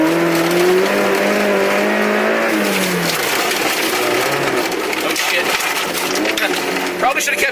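Toyota MR2 AW11 rally car accelerating hard on a rallycross course, its engine note rising and falling loud and close, with tire noise and a voice talking over it.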